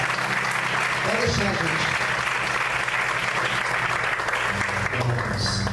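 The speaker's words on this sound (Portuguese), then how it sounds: "Você pode aplaudir e exaltar o Senhor, amém?" A church congregation claps steadily and loudly during a sermon, the applause continuous while a voice speaks briefly over it.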